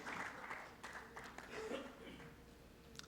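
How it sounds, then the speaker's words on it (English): Faint applause from a conference audience welcoming a panel member to a cybersecurity panel discussion, a soft, even patter with voices murmuring underneath. "A big round of applause to Urvish"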